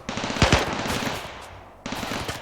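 Automatic turret fire from the video game Rimworld crackles in rapid, close bursts with a couple of sharp louder shots mixed in. After a brief fading pause, the fire starts up again.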